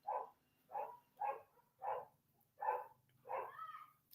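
Big neighbourhood dogs, a Great Dane and a Rottweiler mix, bark six times in a steady series of muffled, mid-distance woofs. The last bark is drawn out and whining, and there is no talk over them.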